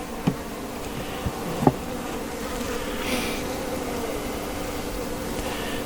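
Honeybees buzz in a small mating nuc colony, a steady close hum throughout with a few faint clicks and handling knocks early on, and no talk.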